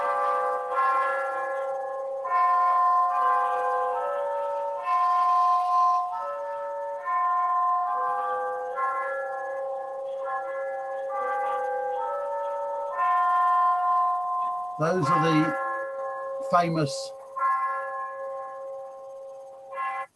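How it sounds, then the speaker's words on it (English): Westminster chimes ring out a slow, stately melody on bells, tone after tone, loud and resonant, with two brief sharp knocks near the end. "Westminster chimes that are broadcast around the world on certain times of the year"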